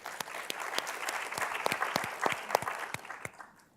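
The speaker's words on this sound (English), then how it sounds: "Round of applause for Esther." An audience at a leadership summit panel claps in a brisk round of applause with distinct individual claps audible, staying fairly even before quickly tapering off to quiet at the end.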